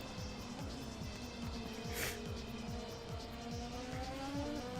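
Race car in Assetto Corsa ranked online racing braking hard, engine note stepping down through rapid repeated gear changes with tire squeal, a loud continuous mechanical drone and a brief sharp burst midway.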